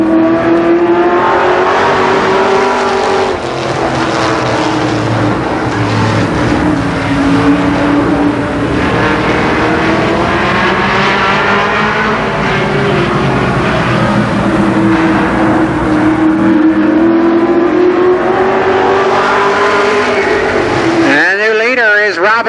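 Limited sportsman race cars circle Columbus Motor Speedway in 1990, their engines roaring loud and close with rising and falling revs as they pass, under an announcer's voice.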